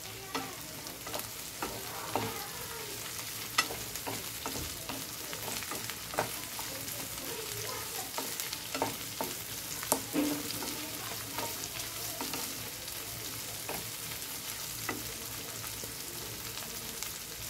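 Corn kernels fry in a pan over a high flame, giving a steady, close sizzle broken by frequent scraping stirs and small pops that runs unbroken for the whole stretch, with no voices.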